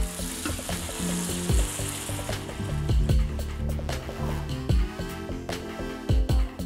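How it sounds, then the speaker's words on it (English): Stock is poured into a pot of frying onions and rashers for an Irish stew, bringing a loud, steady sizzle with liquid splashes and the knocks and scrapes of stirring close by. "So I'm just gonna add in my stock now."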